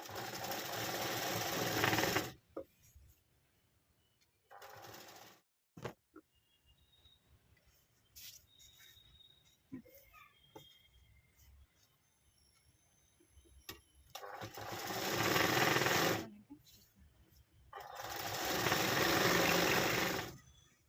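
A sewing machine stitches along the double-folded edge of a saree in four loud, steady whirring bursts of a few seconds each. Quiet pauses with faint handling noises fall between the bursts.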